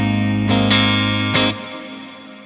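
A clean electric guitar tone from a Quad Cortex modeler: a few sustained chords struck in turn, bright and ringing with subtle room reverb, then fading out, with no voices.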